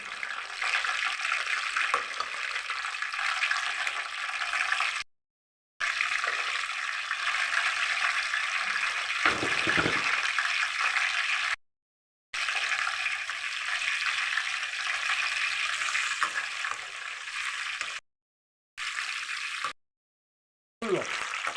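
Onions and green chillies frying in a pan, a continuous dense crackling sizzle heard close up, broken by a few brief silent gaps, with no voices over it.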